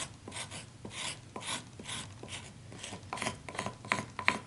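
Bark being scraped off a piece of driftwood with a hand tool, a run of rhythmic rasping strokes, close and fairly loud, each stroke a short gritty scrape repeating about every half second.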